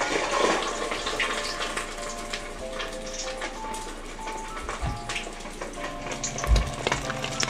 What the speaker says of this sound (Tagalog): Yan na pa kumukulo yung mantika natin. Pwede na natin i-frito yung bagnet.